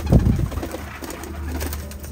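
Pigeons in a loft give low, soft cooing calls, a louder burst near the start followed by quieter scattered coos close by, with no voices.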